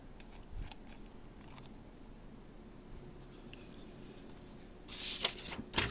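A fountain pen with a stub nib writes on paper with faint, soft scratching strokes, quiet and intermittent, before a louder rustle of paper near the end.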